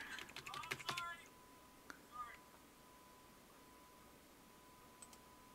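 Keyboard keys tapped in a quick flurry of soft clicks at the start, then a few isolated taps and near silence, faint and close on a computer being set up with Linux.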